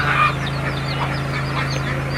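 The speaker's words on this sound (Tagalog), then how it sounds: "Ayan po yung mga bibi natin." Several domestic ducks quack and honk in short bursts over a steady low hum, nearby and fairly loud.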